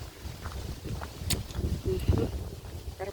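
Wind blows beside a lake on a cool 11-degree morning walk, a gusting low rumble buffeting the microphone with faint rustles and brief distant voices mixed in.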